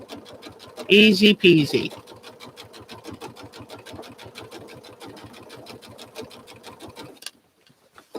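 A sewing machine stitches quilt fabric in a steady, rapid rhythm that runs for about seven seconds and then stops, with a person speaking briefly over it near the start.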